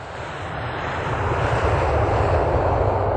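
Airplane engine roaring steadily at takeoff, a broad continuous rumble with deep low drone that swells slightly and holds loud throughout, no voices.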